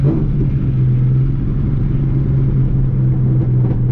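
A car engine with long tube headers and resonator and muffler deletes idles and revs, giving a loud, continuous, deep rumbling drone that holds steady throughout.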